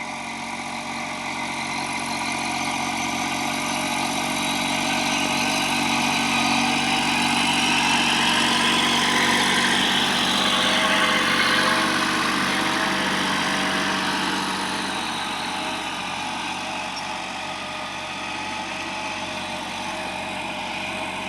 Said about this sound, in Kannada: this is a Kubota tractor 24 HP 4 wheel drive